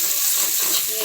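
Bamboo shoot vegetable being stirred in a pan with turmeric, garam masala and homemade spice mix, giving a steady close sizzle and hiss with faint scraping through a brief moment.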